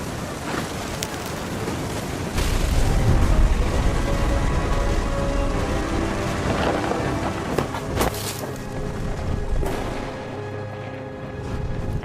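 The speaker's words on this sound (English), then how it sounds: "The thunder sounded much too close and full of angry power." Deep rumbling thunder in What Remains of Edith Finch rolls low beneath steady rain and wind, swelling loud for a few seconds then fading into a continuous storm wash with a few sharp cracks.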